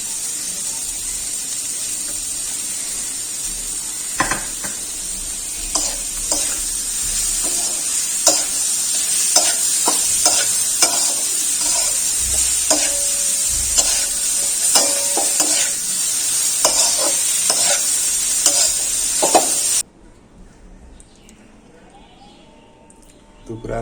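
Greens stir-fried with fried onion and chili in a pan, a continuous hissing sizzle with repeated scraping stirs and clinks for about twenty seconds, people talking over it, then a sudden quiet at the end.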